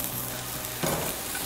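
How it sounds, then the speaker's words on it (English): Peppers and onions hitting smoking hot oil in a pan, a quiet steady sizzle that jumps into a brighter burst of frying and stirring partway through, with no talking. "So in with our peppers and onions. You can hear that sizzling straight away."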